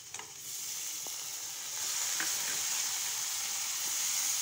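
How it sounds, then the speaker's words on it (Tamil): Onions and tomatoes sautéing in a pan for a potato kurma, a soft continuous frying hiss that swells slightly midway, with a few faint utensil taps, quiet and close. "தக்காளியை போட்டு நல்லா வதக்கணும்."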